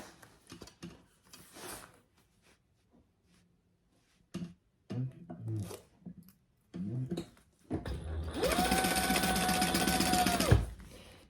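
Sewing machine stitching a seam on a beginner's bag, a loud sustained mechanical whir near the end after scattered handling clicks, fabric shuffling and a few short bursts of stitching.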